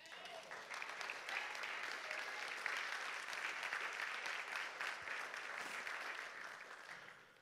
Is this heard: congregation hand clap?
yes